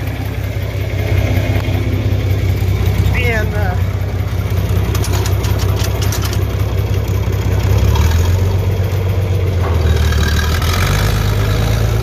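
A truck engine idles with a low, steady rumble throughout, close by, during a corn harvest on a farm, with a person speaking briefly over it and some outdoor background noise.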